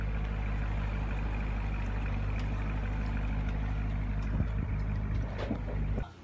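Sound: 2016 Corvette being unloaded from transport truck

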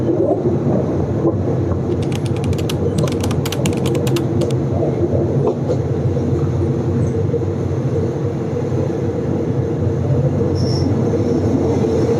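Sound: train passing

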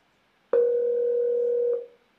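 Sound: Zoiper softphone calling Asterisk extension on Raspberry Pi

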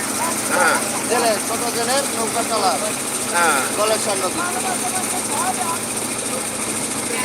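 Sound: fishing trawler boat engine approaching fast

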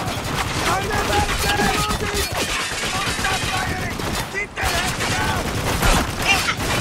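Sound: gunfire in the video game Spec Ops: The Line

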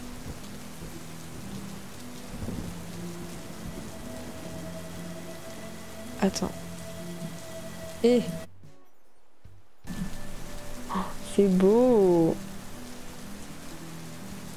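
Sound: rain falling in the video game Animal Crossing

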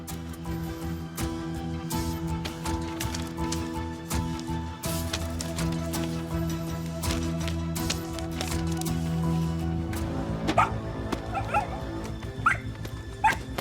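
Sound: dog barking

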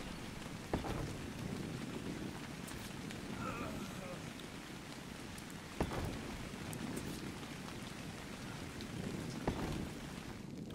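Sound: rain in the video game ARK: Survival Evolved

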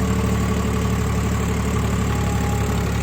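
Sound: tractor engine idling

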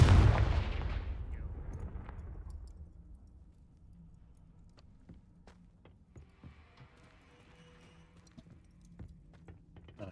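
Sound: Confringo fire spell cast in the video game Hogwarts Legacy

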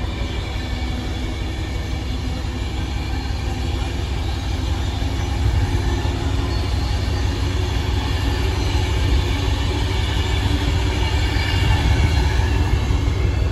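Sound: train 39125 passing through Stafford station

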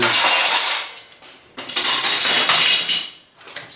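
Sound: metal clamps being dropped

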